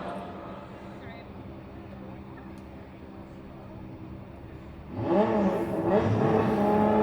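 An Audi drift car on a pro-am drift track, engine droning low at first, then revving up loudly and building toward boost while a commentator talks over it.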